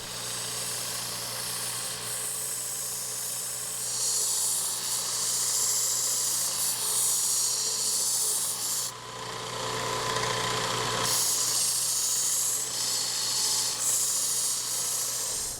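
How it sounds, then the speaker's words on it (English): Angle grinder with a 60 grit disc grinding down rough casting on an old Proto adjustable wrench, a continuous loud high whine with shifting pitch and brief dips as pressure changes, no talking. "So I just decided to get the grinder out with a 60 grit on it and take it down."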